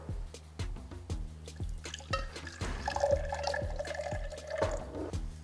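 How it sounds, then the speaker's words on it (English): Water poured from a container into drinking glasses, filling each about a quarter full for a homemade lava lamp. A steady trickle runs for several seconds, with small drips and clinks up close. "So first you're going to put the water into the glasses"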